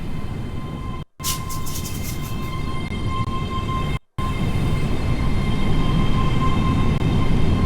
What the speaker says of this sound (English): Just as another train arrives